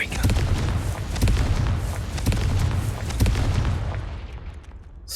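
A Confringo fire spell going off in a wizarding video game, a dense run of rumbling booms and bursts close up, fading out toward the end.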